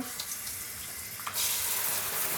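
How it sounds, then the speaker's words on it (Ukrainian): Warm water sprays from a small hand shower head onto a platycerium (staghorn fern), switching on partway through as a sudden, steady, close hiss of spray. "А зараз просто з душика отакого відкриваю"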